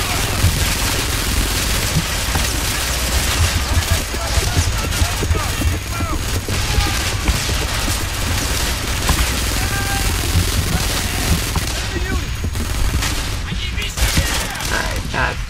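Gunfire rattles nonstop through a battle in the video game Frontlines: Fuel of War. Dense, overlapping bursts of rifle and machine-gun fire mix with booms, loud and continuous, while voices shout over it.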